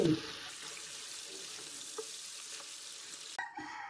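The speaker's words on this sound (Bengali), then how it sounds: "মাছ কিন্তু বেশি রান্না করতেও নেই বেশি ভাজতেও নেই আমি এক থেকে দেড় মিনিট ভেজে নেব" Prawns fry in ghee in a pan for prawn malai curry. A soft, steady sizzle continues for several seconds and ends with a brief clatter near the close.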